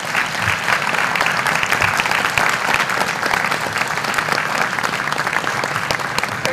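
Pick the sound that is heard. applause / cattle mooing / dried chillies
applause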